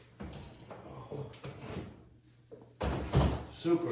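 Wooden cabinet door being handled and fitted onto a DIY modern ADA-style aquarium tank stand, with scattered knocks and thumps of wood, a louder clunk near the end, and a faint background hum.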